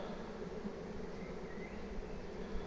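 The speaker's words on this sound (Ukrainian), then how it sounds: "два роя дві сім'ї десь пороїлися, два роя об'єдналися" Dense steady buzzing of honey bees at a commercial apiary, where two swarms have merged into one cluster, a continuous even drone that fills the whole moment close by.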